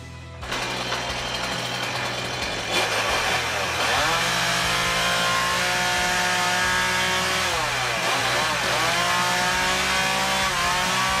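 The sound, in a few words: car engine accelerating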